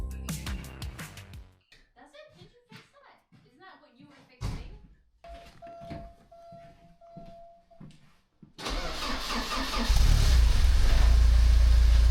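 A repaired Porsche 944, fresh from rear main seal work, clunks with door slams and knocks, then its engine catches and runs on a test drive, a loud steady drone building toward the end under occasional talk.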